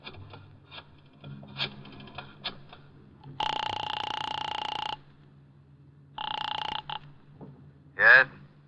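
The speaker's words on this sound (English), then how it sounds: "I dialed the Kelsey residence." In a radio drama scene, a telephone is dialed with a run of small clicks, then rings twice in long, close electric bursts, followed by a short sharp chirp.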